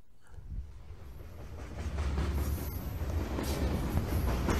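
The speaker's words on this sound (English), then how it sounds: "I hear trains." Trains rolling in a Thomas the Tank Engine story set on the Island of Sodor, a steady low rumble that swells after the first couple of seconds and holds, fairly close, with no voices.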